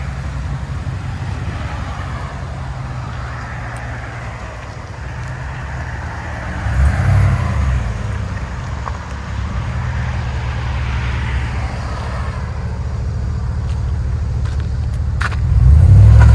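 Low exhaust rumble from a 2020 GMC Sierra AT4 with dual Magnaflow exhaust pulling away, heard from inside, building gradually with a louder surge at the end.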